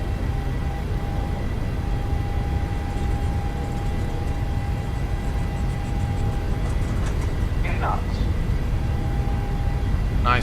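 Airliner engines spooling up toward takeoff thrust in Microsoft Flight Simulator, a loud, steady low roar that fills the cabin, with a faint thin tone and a few brief chimes over it.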